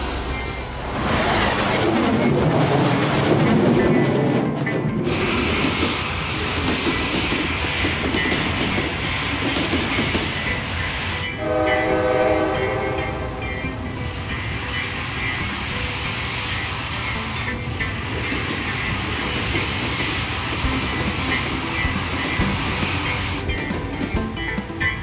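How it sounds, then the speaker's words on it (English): Jet train engines in a children's cartoon roar loudly and continuously, the deep rushing blast shifting in tone partway through as the roar surges and settles. "Can you help me disable the engines?"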